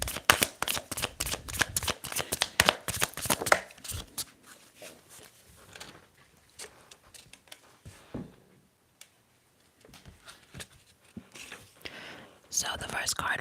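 Tarot cards are shuffled close to the microphone in rapid crisp riffles, then drawn and laid down with softer taps and slides, and whispering runs through it before another burst of shuffling at the end.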